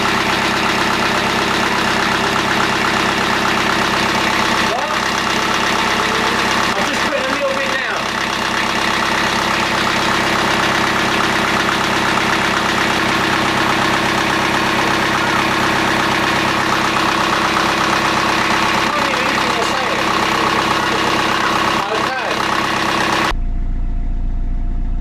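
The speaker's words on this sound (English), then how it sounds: "I'm right next to the engine," The engine of the narrowboat Kimberley runs close by, a loud, steady idling drone with a faint knocking rhythm that continues unchanged for over twenty seconds before cutting off abruptly.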